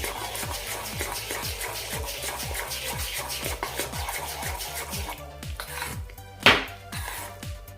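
Instant rava idli batter is stirred briskly in a steel bowl, a rapid regular run of spoon scrapes and clinks, then it slows and ends with one sharp knock of the spoon against the rim, close, no talking.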